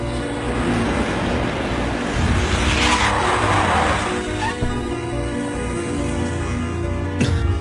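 A car skids to a stop with a loud, sustained tire squeal and engine roar that swells and then fades, with no talking over it.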